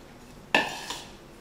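Baking mixture stirred in a bowl as sugars are added: a single sharp clink of a utensil against the bowl, followed by a softer second tap, near and otherwise quiet.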